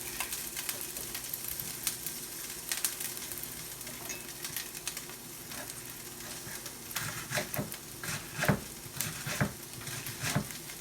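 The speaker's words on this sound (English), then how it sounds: "Oh yeah, there it goes. Sizzling away." Steady, faint sizzling of cabbage in a pan for borscht, with occasional crackles and pops, continuous throughout with no voices.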